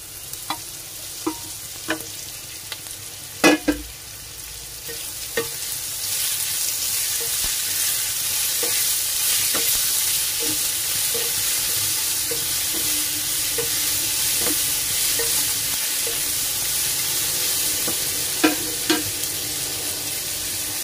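Chopped tomatoes fry with onion in a pan for cheese masala dosa. A few sharp clinks and scrapes of stirring come first, then a loud, steady sizzle takes over, with occasional spoon knocks and no talking.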